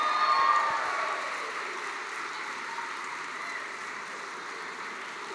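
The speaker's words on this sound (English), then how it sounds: "Please keep that applause going" Sustained audience applause at a Melbourne Polytechnic graduation ceremony, a broad wash of many clapping hands that starts strongest and gradually eases to a softer, steady patter.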